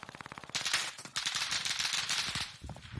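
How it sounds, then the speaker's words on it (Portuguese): Rapid bursts of video game gunfire, loud and close, with automatic rattling fire running almost continuously and a few sharper single shots near the end. "Estão atirando em mim!"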